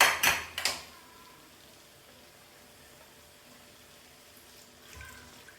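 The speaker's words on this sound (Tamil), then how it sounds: "இப்போ வந்து மட்டன் வேக வச்ச தண்ணி ஊற்றிக்கலாங்க." Water used for cooking mutton is poured into a pot of dhaba-style mutton curry: a couple of quick, close splashing bursts, then a faint, quiet simmer with a small clatter near the end.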